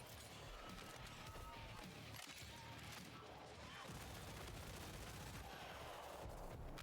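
A chaotic fight in Killing Floor 3 on Hell On Earth difficulty, where steady gunfire and bursts of automatic shots mix with crashes and mechanical clatter in a loud, continuous din.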